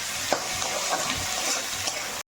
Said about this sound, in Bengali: আর একটু ভালো করে নাড়াচাড়া করে নেব যেন টমেটোটা একটু সিদ্ধ হয়ে যায়